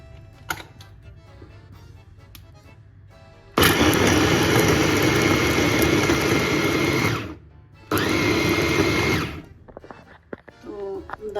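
An electric chopper grinding soaked chana dal gives two loud whirring bursts, the first about four seconds long and the second shorter after a brief pause, with quiet kitchen sounds before and after.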